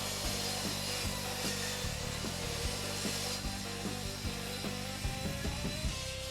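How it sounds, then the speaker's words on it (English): An extra wide sliding miter saw shaves a thin strip off pallet wood in one long, steady pass, its loud motor whine and rough cutting noise continuous and close for several seconds. "Thanks in part to my extra wide miter saw, sliding miter saw, I'll be able to cut this in one pass."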